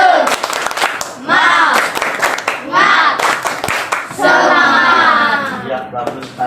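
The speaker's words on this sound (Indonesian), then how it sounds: "kita tepuk tangan untuk anak-anak kelas 5B" Elementary-school children in class 5B clap in unison in quick rhythmic bursts, loud and close, trading off with the group's chanted voices between rounds of patterned clapping.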